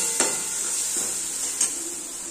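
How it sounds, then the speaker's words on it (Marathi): Spices fry in a pan for cluster bean (gavar) bhaji, a steady bright sizzle with a couple of sharp stirring scrapes standing out against the continuous hiss. "हे पहा, आता आपले खूप छान मसाले फ्राय झाले।"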